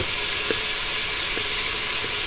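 Onion and tomato masala frying in a pot for an aloo gosht curry, giving a steady broad sizzle and hiss with a few soft stirring taps, no voices.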